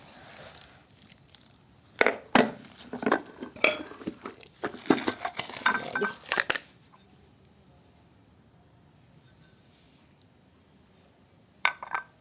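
Glass food boxes clink and knock together in a burst of handling, a few seconds of bright rattling, then near silence and one last clink.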